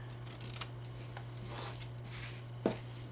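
Scissors make a few soft, crisp snips through vintage lace, close but quiet over a low steady hum.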